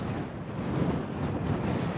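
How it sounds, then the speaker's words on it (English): Strong wind buffets a hilltop on a Scottish island, a loud continuous roar with microphone rumble and no speech. "Might stay up here, although it is very windy."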